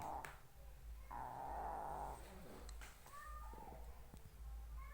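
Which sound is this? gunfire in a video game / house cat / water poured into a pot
house cat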